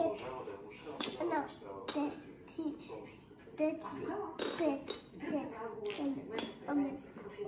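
Plates, dishes and cutlery clink and clatter repeatedly as a picnic is set out, bright close chinks scattered throughout while people, including a child, talk over them.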